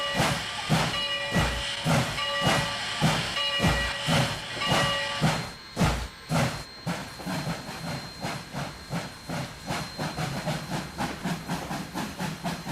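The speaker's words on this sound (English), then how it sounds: "The chuffing goes perfectly with the smoke when it comes out." A G5 4-6-2 steam locomotive in the Trainz simulator chuffs in a steady, even rhythm of sharp exhaust beats with hissing steam, loud and close, no voices.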